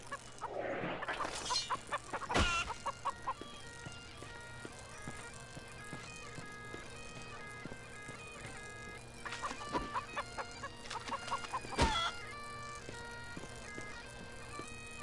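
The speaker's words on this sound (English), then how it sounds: "Can I punch the chicken?" Chickens cluck in a PS4 video game, repeated short clucks and squawks over a steady game music bed, with a couple of sharper hits and fluttering bursts along the way.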